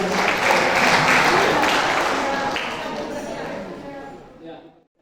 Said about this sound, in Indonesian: Mari sekali lagi tepuk tangan buat Tuhan